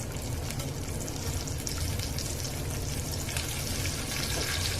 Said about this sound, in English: I believe our oil is hot, so I'm just going to go ahead and put in a few of these shrimp